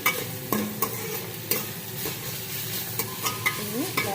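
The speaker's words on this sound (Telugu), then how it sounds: "దీన్ని బాగా ఫ్రై చేసుకోవాలి." A chickpea curry base with green chillies fries in a pan, a soft steady sizzle punctuated by regular sharp clinks of a spoon stirring against the metal, close and without talk.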